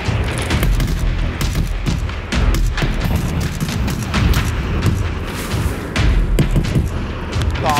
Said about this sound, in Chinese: 手雷